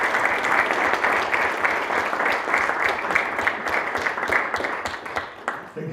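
A lecture hall audience applauds in welcome, dense sustained clapping from many hands that continues steadily before thinning slightly at the end.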